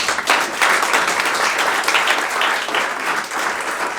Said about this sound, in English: So a warm applause to the panelists.